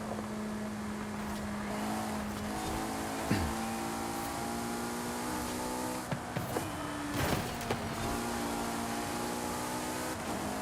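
A heavily modified, non-stock car in Forza Horizon 5 races at high speed, its engine droning steadily at high revs throughout with a few brief bumps and clatters of contact along the way.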